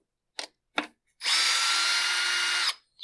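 Two short taps of a power drill trigger, then a sustained high whirring run of about a second and a half as screws are driven into the handle of a Husqvarna 372XP chainsaw, close and loud.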